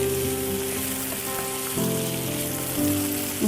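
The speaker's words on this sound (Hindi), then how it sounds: "अब इसे थोड़ा सा प्याज के साथ अच्छी तरीके से फ्राई कर लीजिए।" Steady loud sizzle of yogurt and masala frying with onion in a pan for a Hyderabadi dum gosht, a continuous close crackling hiss with no talk.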